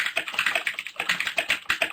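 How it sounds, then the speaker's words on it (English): Rapid, close clicking of fingers typing on a mechanical keyboard with metal springs. The keystrokes come in quick, uneven bursts with no talk over them. "mechanical keyboards have metallic springs underneath them, so it makes this amazing"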